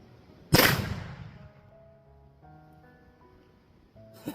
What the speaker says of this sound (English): we're going to light off with a 100 grain charge behind a really heavy bullet